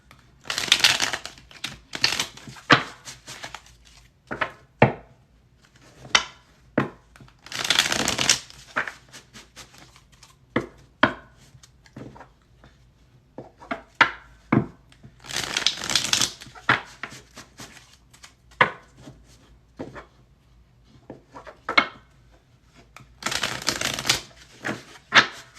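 Tarot cards are shuffled close up in repeated crisp riffles and bursts of flicking and tapping, with quiet pauses between, and a voice speaks faintly now and then.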